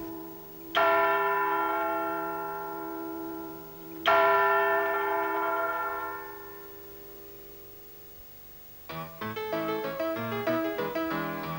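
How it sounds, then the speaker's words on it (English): Large clock tower bells in St Helens ring out over the town, two long resonant strikes with slowly decaying hum, followed by a quicker sequence of overlapping chimes. "the bells of the landmark clock tower will continue to ring out over the town"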